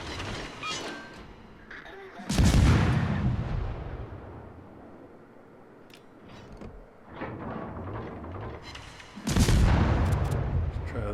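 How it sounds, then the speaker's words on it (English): Naval gunfire from a destroyer in World of Warships, with two loud booming salvos that roll off slowly and lighter mechanical creaks in between. "keep shooting at the Iron Duke."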